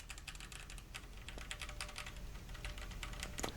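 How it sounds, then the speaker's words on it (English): Rapid clicking of a Keychron Q6 mechanical keyboard, keys struck in a steady, dense stream of crisp taps, close and clear with no talking. "This is the Keychron Q6 keyboard."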